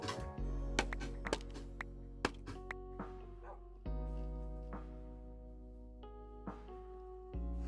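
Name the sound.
dog yipping like a squeaker toy in video game Minecraft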